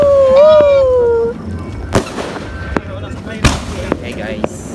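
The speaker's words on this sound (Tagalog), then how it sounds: "Fireworks from the mountain!" New Year fireworks over a mountain in Tanay, Rizal, going off as a series of sharp, separate booming bangs at irregular intervals. They come after a drawn-out vocal whoop and sound over a low crowd murmur.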